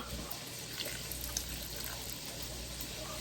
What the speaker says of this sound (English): Let's pour the vinegar.